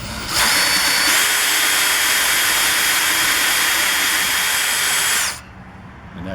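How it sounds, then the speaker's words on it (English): A 3/8 drill bores into a 1/2 inch outside-diameter pipe, running as one loud, steady high whine for about five seconds before it cuts off abruptly. "we get our 3/8 drill that fits in this pipe. This is a 1/2 inch pipe outside diameter, and we drill it."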